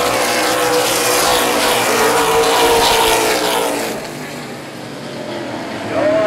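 Outlaw late model race cars roar loudly at Baer Field Speedway, engines climbing in pitch as they accelerate together down the backstretch, then the noise eases off slightly toward the end.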